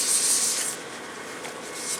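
Sandpaper of 400 grit rubs against a hollow wooden turned piece in a steady, hissy rasp, louder at the start and easing into a quieter continuous scrub.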